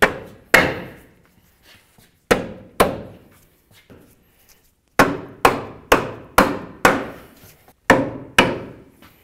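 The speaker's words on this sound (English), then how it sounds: "you could also use a rubber mallet and just give this a couple loving bonks to drive it into place" A rubber mallet drives a lower control arm bushing into place on a 2011-2016 Hyundai Elantra, delivering about a dozen solid, ringing blows in bursts of single, paired and rapid strikes, each decaying quickly into near silence, loud and close with no talking.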